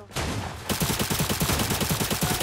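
Rapid automatic gunfire in the Cyber Hunter Stronghold mode rattles out as a steady, loud stream of closely spaced shots, continuing without pause after a brief opening.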